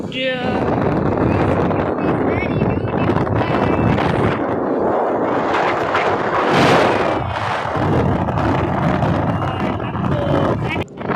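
Strong wind on open farmland roars and buffets the microphone in a constant, heavy rush, with brief gusting swells throughout.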